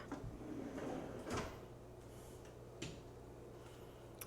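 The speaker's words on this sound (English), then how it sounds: "Let's open up a drawer." A kitchen cabinet drawer in a sleek, modern-style model-home kitchen slides open with a soft, muffled rumble and a couple of light clicks and knocks, close by and moderately quiet.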